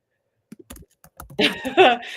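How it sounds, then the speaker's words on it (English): Rapid clicking of mechanical keyboard keys, sparse at first and then building into a dense, loud flurry of keystrokes, close by. "you need to listen back to this typing"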